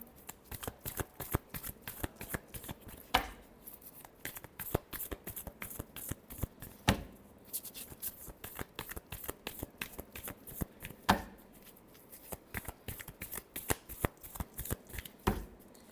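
Tarot cards are shuffled by hand in a long run of quiet, rapid riffling flicks and soft slaps, close and steady, with no talk.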